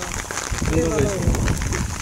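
Steady rain pattering on a surface fills the scene, with a brief voice rising over it.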